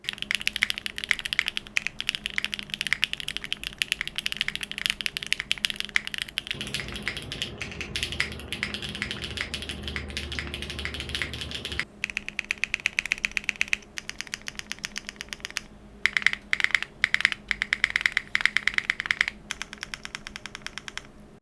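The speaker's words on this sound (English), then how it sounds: "Mine's built with 70 grams silicone bow mount, spring-swapped Swagkeys Strawberry Wine V2s on carbon fiber plate with TX AP stabilizer, topped off with GMK Bingsu Round 2" A custom mechanical keyboard with a silicone bowl mount, spring-swapped Swagkeys Strawberry Wine V2 switches on a carbon fiber plate, TX AP stabilizers and GMK Bingsu keycaps is typed on steadily and close up, a dense clatter of keystrokes with occasional pauses and a faint hum beneath.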